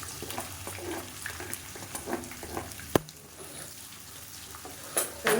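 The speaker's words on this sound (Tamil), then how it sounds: "மீடியம் சைஸாக ரெண்டு பெரிய வெங்காயம் நீளமாக நறுக்கினதை சேர்த்துக்கலாம்" Long-sliced onions and curry leaves fry in hot oil with a soft, steady sizzle, punctuated by a few clinks and one sharp knock of a utensil against the pan.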